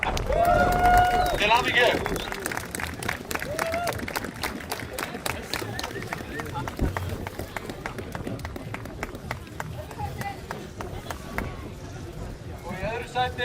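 Applause from a crowd at an award ceremony for a street mile race, a sustained patter of many hands clapping while an announcer speaks over it.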